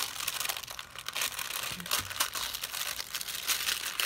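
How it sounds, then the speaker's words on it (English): Continuous crinkling and rustling of paper being crumpled, close and steady, with no voices. "And I could play with this crinkly paper."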